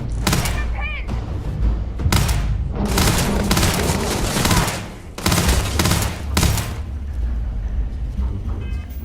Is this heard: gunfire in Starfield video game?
yes